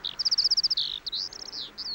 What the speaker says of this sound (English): it's just a skylark